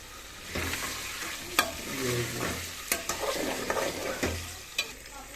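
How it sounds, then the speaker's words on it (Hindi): Chicken pieces fry in a pan with salt for a chicken palak gosht dish, giving a steady close sizzle broken by sharp clinks and scrapes of stirring. "चिकन फ्राई करना आपने, इसको तकरीबन 7-8 मिनट लगेंगे"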